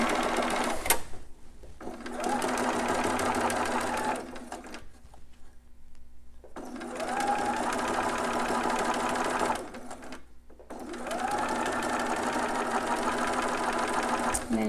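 A sewing machine stitches a newborn romper in three bursts of fast, even whirring, separated by short pauses, close up, with a voice talking quietly around the stitching.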